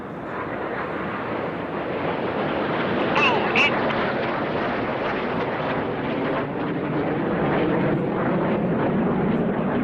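Display jets roar past performing Synchro double rolls at the Goodwood Festival of Speed, a loud sustained engine rush with a commentator talking over it.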